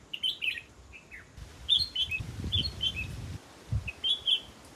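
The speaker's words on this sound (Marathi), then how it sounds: "पक्ष्यांचा मधुर किलबिलाट कानावर पडतो." Birds in a forest in the Sahyadri hills chirp in quick, bright bursts of short whistled notes, close and clear, over a soft low rumble of background noise.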